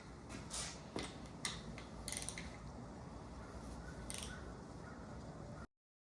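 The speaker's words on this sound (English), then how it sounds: "now we're going to torque them down to 30" Torque wrench clicking and ratcheting while intake manifold bolts on an SBC 400 small-block engine are tightened, a few sharp clicks standing out over steady close workshop noise.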